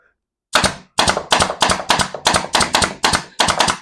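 A compact Harbor Freight nail gun fires in rapid succession, about eight sharp, loud pops spaced roughly a third of a second apart, each a crisp close crack with a short decay, with no voices.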